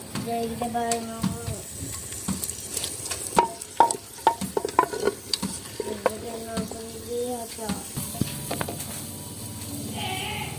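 Onion and tomato sizzling and frying in ghee in a hot pan, with stirring scrapes and clinks, while a person talks intermittently.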